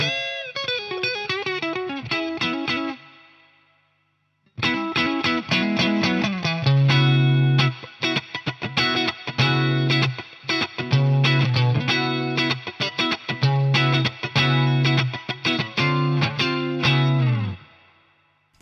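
An electric guitar through a Wampler Dual Fusion overdrive pedal set for light gain plays a riff with light crunch, a short phrase then a brief pause, followed by a long run of rhythmic chords and picked notes.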